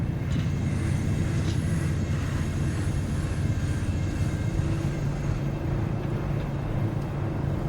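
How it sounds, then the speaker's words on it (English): A freight train passes in the video game Cyberpunk 2077, a steady loud low rumble with rolling wheel noise that holds evenly throughout, with no talking over it. "The next freight train is delayed."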